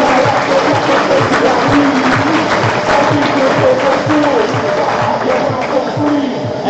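A crowd at a squash match in the Dutch Eredivisie applauds a player, steady sustained clapping filling the hall, loud and close with some crowd babble mixed in.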